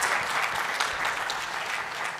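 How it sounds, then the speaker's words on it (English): An audience at a presentation on Malawi life tables applauds, a steady wash of clapping from many hands that fills the whole short stretch without pause. "let's clap hands for Metembe."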